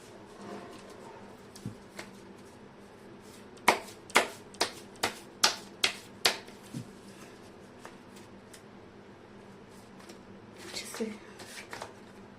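Tarot cards being shuffled close by in a quick run of about seven crisp riffle snaps, preceded by a few scattered taps and followed by softer shuffling, fairly loud and without talking.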